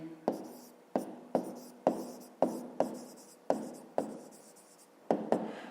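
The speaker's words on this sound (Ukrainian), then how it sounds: "Пишемо відповідь." Pen or pencil scratching on paper while a maths answer is written down, short strokes in quick bursts with brief pauses, close and fairly quiet, no talking.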